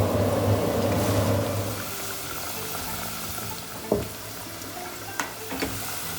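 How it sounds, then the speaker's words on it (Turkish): Tomato paste frying in oil while being stirred, a steady close sizzle that eases after the first two seconds, with a few sharp spoon scrapes and knocks against the pan. "Salçalarınızı arkadaşlar yine söylüyorum mutlaka yağın içinde birazcık kavurun"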